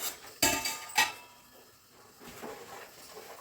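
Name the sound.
lid being put on a cooking pot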